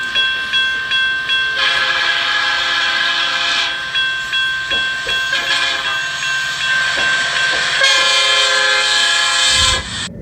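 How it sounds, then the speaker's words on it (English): A loud, continuous roar of an elevated L train rushing past close by a window, with screeching metal tones and a sustained whistle-like ring throughout. "the L train was roaring past his window"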